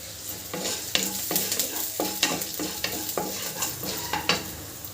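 A sprig of curry leaves is stirred and sautéed in a pan for Tamil pepper kuzhambu, with a crackling sizzle and repeated sharp scrapes and taps of the spatula keeping an irregular rhythm up close.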